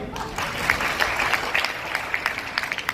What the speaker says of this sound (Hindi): जोरदार तालियां भी दे रही है।